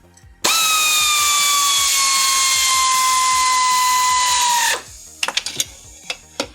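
A power tool spins bolts down in a garage without torquing them. The whine runs loud, steady and close for about four seconds, then stops, followed by a few light clanks.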